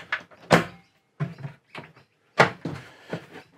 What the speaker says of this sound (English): We have a sliding door and it has a lock mechanism.